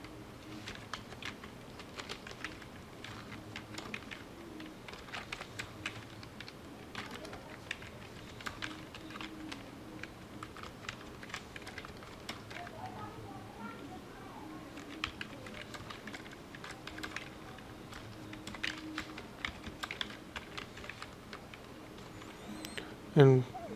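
Steady, rapid typing on a computer keyboard, close up, with soft clicks pattering almost continuously for over twenty seconds over a low background hum.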